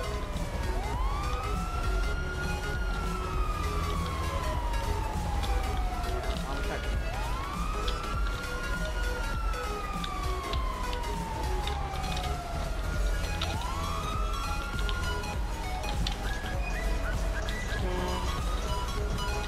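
An ambulance siren in the GTA V FiveM roleplay game wails steadily up and down in repeated sweeping cycles over constant background noise, with voices talking underneath.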